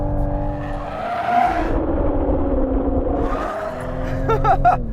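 A 2020 Toyota Supra slides with its rear end out, tires squealing in long rising and falling skids over a close, loud engine roar.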